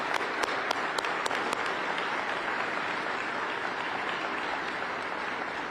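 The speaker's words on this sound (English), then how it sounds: "I'm going to give them a big round of applause." A large audience applauds steadily and loudly at a public event marking the near completion of the Twin Ports Interchange project in Minnesota, with dense clapping sustained for the whole stretch.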